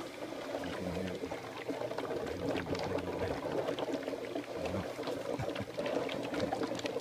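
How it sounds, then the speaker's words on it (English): An HHO generator on a furnace setup bubbles steadily as it produces gas, a continuous watery gurgling and churning that holds at an even level throughout with no talking. "Right now I don't have it on, but it's producing gas. You can hear it."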